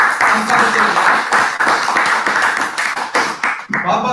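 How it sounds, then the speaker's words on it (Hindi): An audience at a digital library inauguration claps, a dense, loud burst of applause from many hands that carries on steadily and starts to thin out toward the end. "एक बार मैं चाहूंगा जोरदार तालियां हम सब।"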